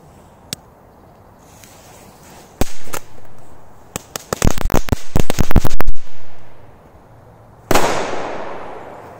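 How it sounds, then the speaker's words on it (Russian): A Korsar 4 firecracker bursts into a rapid crackling volley of sharp pops, preceded by a couple of isolated bangs and followed by a final loud blast with a hissing tail, close by outdoors. "дальше у нас петарда будет с треском,"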